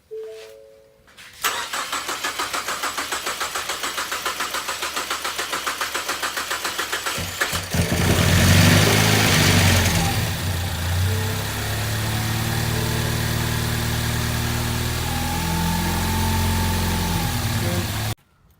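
A Chevrolet Cruze Eco, just back together after a head gasket and head stud job, cranks with a fast steady whir for several seconds, catches with a rising roar, then settles into a loud steady idle.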